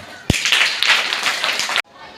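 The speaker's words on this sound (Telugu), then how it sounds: "క్లాప్స్ కొట్టమా" Children in a school classroom clap together in a short, close burst of rapid claps lasting over a second, starting with a sharp thump and stopping abruptly.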